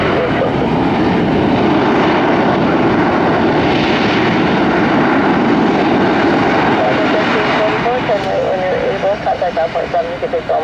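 A United Boeing 757 roars through its takeoff at Tampa airport, a loud, continuous broadband engine rumble heard close and steady throughout, with a slight fluttering toward the end.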